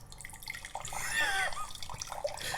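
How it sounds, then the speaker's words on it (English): Wine pours into a glass beside a microphone during a podcast recording, a close liquid gurgle and splash swelling over a couple of seconds amid faint room murmur. "is Ed pouring me a glass of wine"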